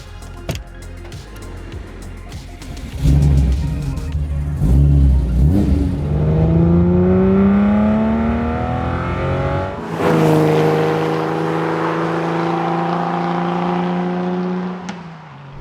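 Porsche 964 RSR-style build by Rindt, its flat-six engine climbing loud and close through long revving pulls while driving, dropping briefly at a gear change before rising again.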